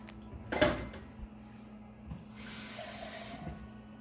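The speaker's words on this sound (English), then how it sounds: "Again, I'm just going to add in a little bit more water." Water is poured into a plastic calm-down sensory bottle, a soft gurgling trickle after an initial clunk of handling, fairly quiet and close, with a brief hissy rush near the end and no talk.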